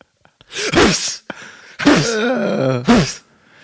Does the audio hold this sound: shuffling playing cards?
no